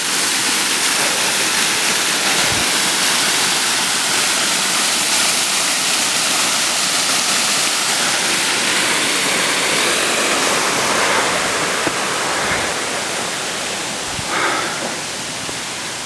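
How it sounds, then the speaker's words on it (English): A waterfall at Buttermilk Falls gives a steady, dense rushing roar of falling water that fills the whole stretch without pause, with a few faint knocks but no talk. "And there's the other waterfall up there."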